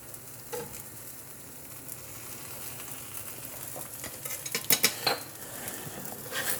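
Metal tongs clink against a pan while birria sauce sizzles over elk tacos, steady frying hiss with light scraping and a few sharper taps near the end, close and alone.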